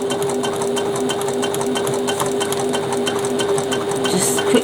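A sewing machine stitches within the seam allowance of a fabric bag, a loud, continuous close-up whirring with a fast regular needle rhythm running without pause.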